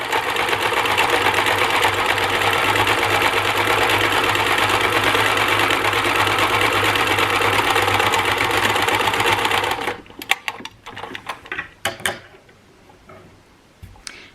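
A sewing machine runs steadily for about ten seconds, stitching quilting lines across a homemade potholder, a loud even whirring drone up close, then stops, leaving scattered clicks and small handling knocks.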